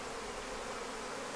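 Honeybees lift off a Flow Hive frame in a thick, unbroken buzz, close and steady throughout the brief moment, with no voices over it.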